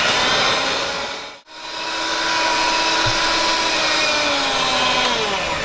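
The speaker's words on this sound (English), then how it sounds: "Now I'm going to mix this up with my hand mixer." An electric hand mixer beats heavy cream, milk and pudding powder for an eggnog tart filling, running as a steady loud whir that cuts out briefly and then resumes.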